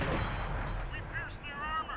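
A tank cannon firing in a World of Tanks-style video game on the Serene Coast map, one sharp loud blast at the start that decays into a rumbling tail with faint ringing tones.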